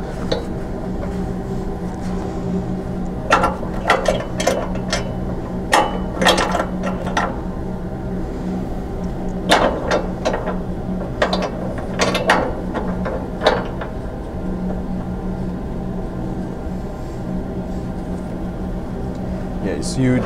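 Tightening mechanism on a 1708 gas flow furnace being closed, repeated ratchet-like clicks in short clusters over a steady mechanical hum, close by, with someone talking in between.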